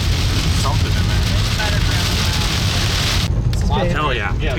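Heavy rain pours down hard and constant during a tornado outbreak storm in Illinois, a loud dense hiss with people talking over it toward the end.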